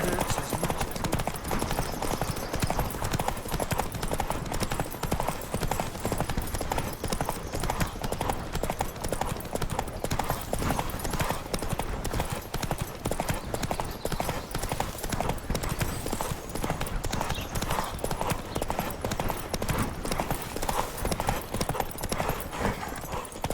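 Rapid, steady hoofbeats of a galloping horse in The Witcher 3 pound continuously under a dense layer of game music and effects, loud and close throughout.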